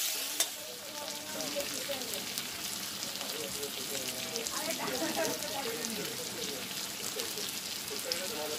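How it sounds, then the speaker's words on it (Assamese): Chicken pieces frying in a pan for chilli chicken, a steady close crackling sizzle with occasional stirring clatter throughout, no talk. "এতিয়া ধুনীয়াকৈ এইটো আমি ফ্ৰাই কৰি থাকিম"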